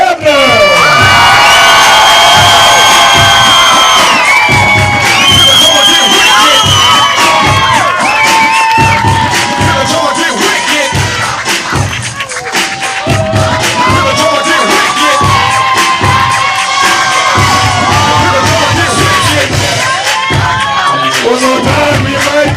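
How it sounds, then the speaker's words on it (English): Wedding guests at a reception cheer, whoop and shout loudly for the newlyweds, a boisterous crowd roar with high excited voices and scattered yells continuing throughout. "let's give a very warm, cheerful Passionate round of applause for your newly wedded couple, Mr. and Mrs. Adam Brebner"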